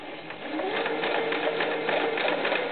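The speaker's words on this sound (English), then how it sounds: "So I'm going to overlock, but I'm just going to overlock up to the elastic" An overlocker runs steadily for the whole stretch, stitching the seams of a small ruffled doll skirt up to the elastic, a close, even mechanical whir with a fast rhythmic chatter and no talking.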